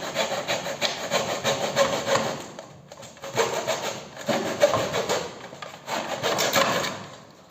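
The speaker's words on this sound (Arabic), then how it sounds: "خدنا مقاسنا بقى ونبدأ نقطع زي ما حضرتك شايفين كده، زي 45." A wall panel is cut at a 45-degree angle with a hand saw, giving close, rasping strokes in three steady bursts separated by brief pauses.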